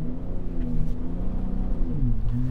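Deep rumbling engine and exhaust of a Ford EcoBoost Raptor truck sliding in loose conditions, with a steady drone that shifts pitch slightly as it revs, fairly close.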